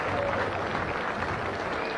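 A crowd applauds steadily at the 2019 Island Games as athletes enter the grounds: dense, continuous clapping that is fairly loud and sustained throughout, with no clear voices standing out.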